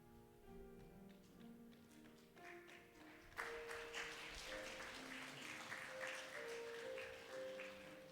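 An audience applauds at a pastor's ordination ceremony at Wonju Baptist Church. The clapping is faint and distant and swells after a few seconds of soft tonal sound, then continues steadily to the end.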